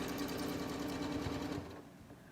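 A Janome sewing machine stitches steadily at close range with a fast, even mechanical whir, then stops abruptly partway through, leaving quieter room tone.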